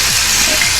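Fish coated in turmeric and chili sputters in hot oil, a loud, dense, close sizzle holding steady for a brief moment.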